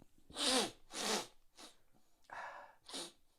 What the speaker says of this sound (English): I had a lot of sniffles, and I didn't know. want to sniffle on the mic.